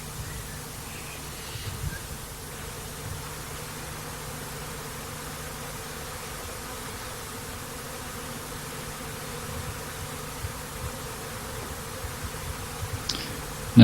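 Honey bees hum steadily from an open hive during queen rearing, a continuous low drone with faint rustling and occasional small knocks, no voices.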